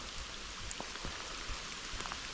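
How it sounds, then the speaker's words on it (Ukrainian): Rain falls steadily outdoors during a downpour on a spinning pike-fishing trip in Ukraine, a dense, even hiss with scattered drop taps and no voices. "І дощик наче трошки притихає, наче не така злива вже валить"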